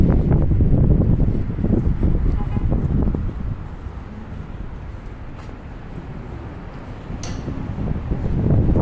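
Strong wind gusting on a street in Halifax, buffeting the microphone with loud low rumbles that ease midway and then build again, a steady outdoor roar.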